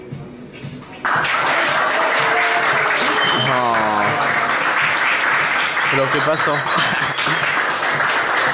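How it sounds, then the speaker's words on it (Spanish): Loud, continuous applause from an audience fills the space after a brief quieter start, with excited voices and shouts mixed into the clapping. "Están aplaudiendo, güey, al parecer"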